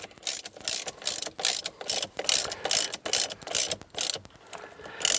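A ratchet clicks in repeated quick bursts while a steering wheel bolt is tightened on a Ford, close and crisp with short pauses between strokes.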